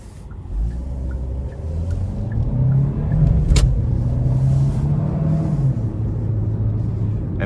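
A 2025 Hyundai Kona Limited with the 1.6-litre turbo engine accelerates while merging onto a highway, the engine rumble rising in pitch and holding steady from inside the cabin, with no talking.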